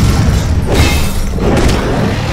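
A video game explosion in Alice: Madness Returns, a loud, dense boom filling the whole clip with rumbling low end and a sharper burst partway through, no speech over it.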